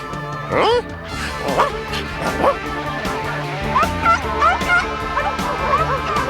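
Dogs rounded up by a dog catcher in a cartoon, giving a string of repeated barks and yips at a steady rhythm over background music and other sounds.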